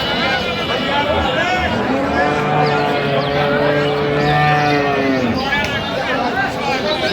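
Cows and calves moo at a busy cattle market, with a long, loud lowing call rising and falling through the middle over a steady crowd hubbub of voices and livestock.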